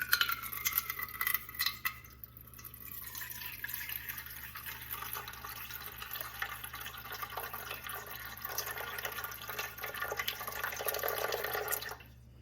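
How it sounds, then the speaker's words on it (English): Water pours in a steady, close trickle into a bowl of sourdough pizza dough, a continuous liquid rush for about twelve seconds that swells slightly before stopping abruptly. "I'm going to go ahead and pour in first my water, 328 grams"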